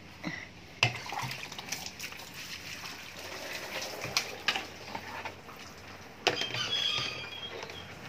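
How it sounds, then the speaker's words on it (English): Water splashing and trickling as feet are washed at home after a typhoon, with irregular close splashes and drips over a quiet, intermittent flow. "Good thing I still have a little bit of water here to"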